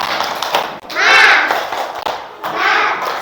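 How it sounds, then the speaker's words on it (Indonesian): A school class does the 'tepuk semangat' chant: group voices and clapping come in two loud, rhythmic bursts with a short gap between them. "Oke, kita tepuk semangat dulu biar tambah semangat"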